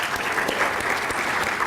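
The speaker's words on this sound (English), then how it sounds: "Come on, let's just keep clapping." Audience clapping at a prevention summit, a steady crowd applause with a few sharper individual claps standing out, continuous throughout.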